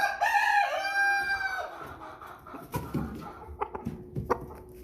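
An American Bresse cockerel crows once, a loud, close, drawn-out call lasting about a second and a half, followed by softer clucks and scattered farmyard knocks.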